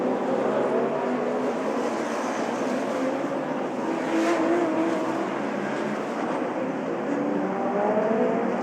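DTM race cars at the 1991 Norisring race roar past in a continuous, loud engine drone that swells and fades slightly as they go by, with no speech and no pause across the stretch.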